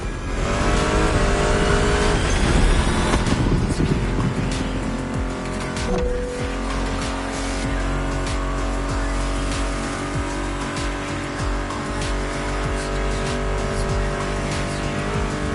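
Car engines roar continuously in the racing video game The Crew, loud sustained revving and acceleration with tire noise layered over background music, no talking.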